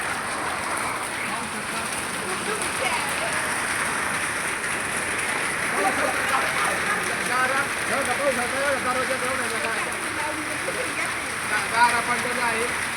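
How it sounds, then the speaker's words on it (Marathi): A heavy hailstorm pelts farmland with a dense, unbroken patter of falling hail that stays fairly loud throughout, with voices faintly beneath it. "गारांचा पाऊस झाला आहे"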